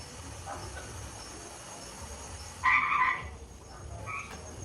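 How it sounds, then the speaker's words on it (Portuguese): A toad croaks in a played recording, one loud buzzy croak in the middle over a low hum and faint background chirps, heard alone with no talk. "vou mostrar primeiro aqui o vídeo do sapo para vocês"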